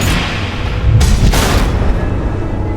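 Missiles explode in the Batman: The Enemy Within video game, with two heavy booms that roll out under a constant low rumble, loud and close.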